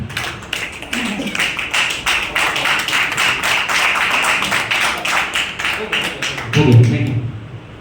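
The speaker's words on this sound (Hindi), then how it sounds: "एक बार हम लोग राजेश सर के लिए जोरदार ताली दे रहे सर" An audience gives loud applause in honour of a man named Rajesh, a dense stretch of clapping with a voice talking over it.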